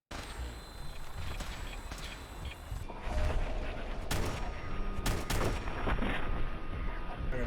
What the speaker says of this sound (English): Let's test out our new heavy stubber, shall we?